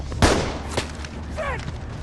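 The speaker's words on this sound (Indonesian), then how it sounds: "Ellie melepaskan tembakan." A single sharp gunshot fired by Ellie from horseback, loud and close at the start, followed by a fainter second crack and low rumbling background.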